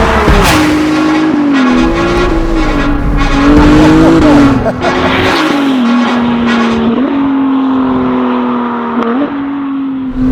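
A loud, close Novitec-tuned Ferrari 296 GTS engine revs and roars continuously, its pitch climbing and dropping through gear changes with a raspy, aggressive exhaust note.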